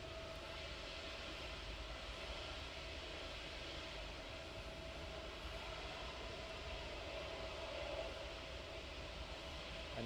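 Aircraft departing East Midlands Airport at night, a steady, broad engine roar holding level and distant throughout, with a faint tonal whine riding above the rumble.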